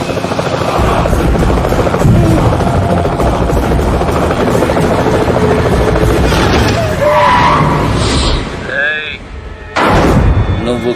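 A helicopter roars loud and close, its rotor beating steadily for most of the stretch, with sharp booming impacts and brief dropouts near the end, under the noise of a movie scene.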